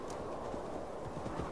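Horse hooves clip-clop in Assassin's Creed Valhalla, a steady soft pattern of hoofbeats at moderate distance over a constant background bed, with no talking.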